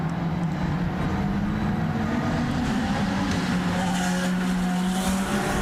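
IndyCar race cars at the São Paulo race roar steadily with a droning engine note over continuous loud track noise, rising slightly in pitch and holding throughout.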